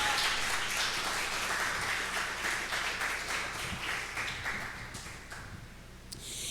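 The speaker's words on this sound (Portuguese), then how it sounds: "Você pode aplaudir ao Senhor?" A church congregation at a family service claps together in a sustained, dense round of applause that gradually thins and softens toward the end, heard from a moderate distance.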